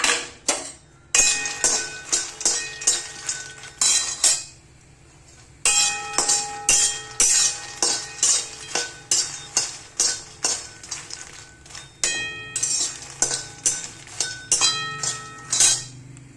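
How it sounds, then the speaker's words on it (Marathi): Makhana (fox nuts) dry roasted in a pan for date and dry fruit laddoos, the light puffs rattling and clinking against the metal in quick repeated bursts of stirring, close and distinct, with short pauses. "आता हे हलकेसे मखाने भाजून घेते"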